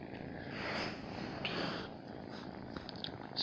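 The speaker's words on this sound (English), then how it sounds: "As you can see, they're purring." Kittens purring up close, a soft continuous rumbling purr with gentle breathy swells, quiet and intimate with no talking.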